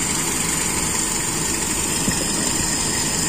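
An engine idling steadily after its carburetor pilot jet has been enlarged, a continuous close, even rumble with a fairly high, constant hum and no change in speed.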